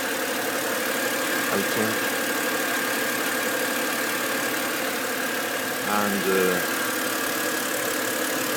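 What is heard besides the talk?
BMW E93 engine idling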